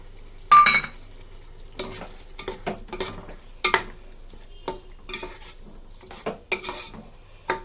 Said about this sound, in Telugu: ఇప్పుడు నేను టొమాటో పేస్ట్ వేస్తున్నాను